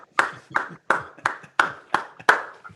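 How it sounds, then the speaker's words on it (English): Evenly spaced hand claps, about seven in a steady rhythm, close and fairly loud, offered as applause for guest speakers at a club meeting held online with the mayor. "it's time to give us some applause for these gentlemen."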